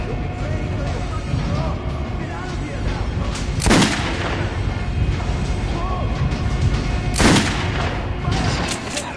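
Gunfire at a target range in the game Metro 2033, with two sharp, loud shots standing out over a dense, busy background of game ambience and voices.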